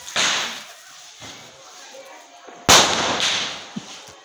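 Two sharp Diwali firecracker bangs crack nearby, each followed by a fizzing tail and faint popping, with a short gap between them.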